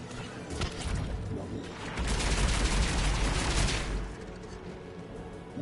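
Defensive guns on a tower in the video game Mass Effect 3 fire a dense, sustained barrage. The rattling volley swells louder through the middle of the stretch, then eases off.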